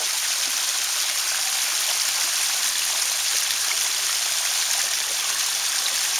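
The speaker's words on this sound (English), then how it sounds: "At the waterfall." A waterfall spills into a koi pond, producing a loud, steady rushing splash heard up close, continuous and unvarying throughout.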